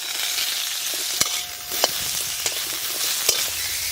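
Mango pieces spit and sizzle loudly in hot mustard oil with five-spice seeds in a wok. A dense, continuous crackle runs throughout with a few sharper pops and no voices.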